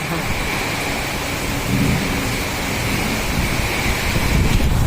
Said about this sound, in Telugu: ఇప్పుడు నా పైన కూడా వర్షం స్టార్ట్ అయింది గైస్